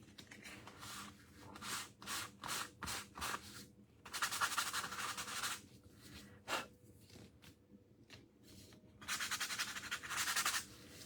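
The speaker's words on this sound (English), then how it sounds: "these need to be sanded" Sanding a small wooden craft piece, a flower shelf sitter: steady, close, quiet scratchy strokes rubbing back and forth in uneven bursts with short pauses, no talk.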